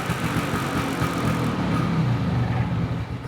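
Vintage Vespa scooter engine running on as the fuel drains from the carburetor bowl, a steady, close, buzzing idle with a fluttery low rumble that holds evenly and dips slightly at the end.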